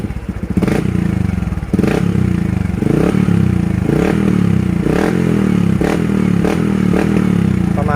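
A 125cc motorcycle with a modified split stock exhaust pipe idles with a loud, lumpy rumble close by, blipped with short throttle revs roughly every second, each rising briefly and dropping back.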